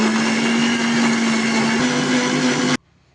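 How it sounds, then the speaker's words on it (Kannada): A kitchen mixer grinder runs steadily at full speed blending watermelon juice, a loud continuous motor whine with churning, then stops abruptly near the end, leaving near silence. "ಈಗ ಇದನ್ನೆಲ್ಲ ಹಾಕಿ ಮಿಕ್ಸಿ ಮಾಡ್ಕೊಳ್ಳೋಣ."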